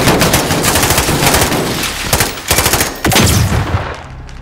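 Gunfire in Call of Duty: Modern Warfare, with loud, close bursts of rapid automatic shots crackling continuously, and a few separate heavier reports near the end.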